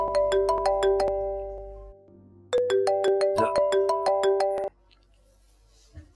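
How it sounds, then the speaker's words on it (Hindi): A phone plays a bright melodic ringtone, repeating its pattern twice with a short pause between, then stops, followed by a faint click. "किसका फोन है कामिल?"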